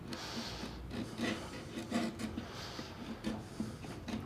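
A sharp chisel held upright scrapes along the edge of a peroba wood board, a close, soft rasping of repeated short pulls lifting fine shavings.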